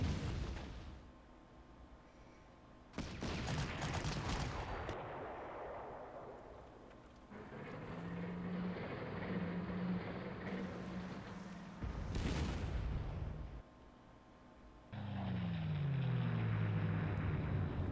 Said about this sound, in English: There's a big line of defensive artillery fire there.